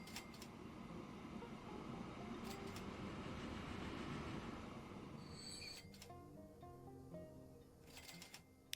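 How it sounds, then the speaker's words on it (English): Faint rumble of a train rolling along in the Transport Fever 2 game, a steady low drone that fades partway through, followed by soft game interface chimes and beeps. "We'll wait for that train to come out."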